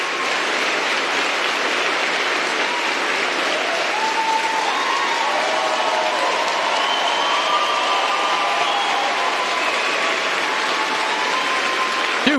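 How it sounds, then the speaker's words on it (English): A large crowd cheers and applauds in a steady, loud roar that holds without pause, dense and close, with no voices standing out above it. "Dude, and they're cheering."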